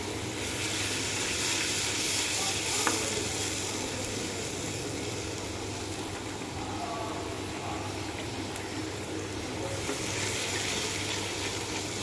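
Tripe fries in a pan over low heat with turmeric and chili powder: steady sizzling, a continuous crackling hiss with no talking.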